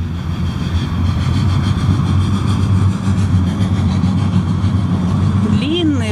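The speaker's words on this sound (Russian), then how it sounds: "Вот он, первый трамвайчик." A tram rumbles past close by with a steady low mechanical drone, and a rising electric whine near the end.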